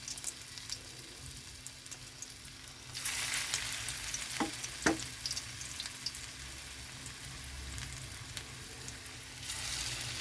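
Radish fritters (mulor bora) dropped into hot oil, a steady close sizzle that swells sharply as the batter goes in, with a couple of brief crackling pops and the frying continuing on its own.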